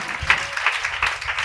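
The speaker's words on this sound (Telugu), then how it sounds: "ఆయన ఒక్కడే చప్పట్లు కొడుతున్నారు, మీరు కొట్టలేదా?" A church congregation at Sunday worship clapping their hands, a short burst of uneven claps close by with a faint murmur of voices behind.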